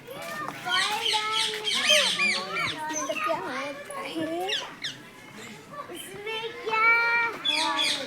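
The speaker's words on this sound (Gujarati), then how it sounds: "આ રહ્યો પીળો પોપટ" A yellow parrot at the Pradhyuman Park zoo in Rajkot gives shrill, chirpy calls mixed among nearby children's voices and chatter, the squawks coming in short, uneven bursts.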